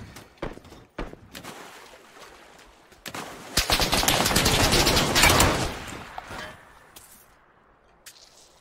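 Cover fire in a PUBG match: scattered single gunshots early, then a dense, loud sustained burst of automatic gunfire for a few seconds before it thins back to sparse shots.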